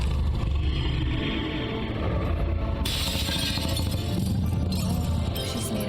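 Glass shattering in The Wolf Among Us as a glass woman breaks apart, a loud continuous crash and crumble with a sharp burst of bright debris midway, alone without talk.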